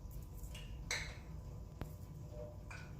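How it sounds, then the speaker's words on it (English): Grease in a deep fryer heated to 375 degrees, cooking beer-battered onion rings: a few sharp pops and crackles stand out over a faint, steady hiss, spaced roughly a second apart. "You can hear the grease popping in the background."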